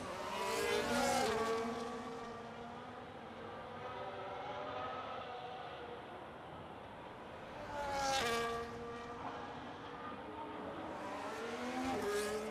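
Race car engines in a sim racing game at a Saudi Arabia circuit: a steady high engine whine that rises and falls through the gears, with louder passes near the start, middle and end, and no talk over it.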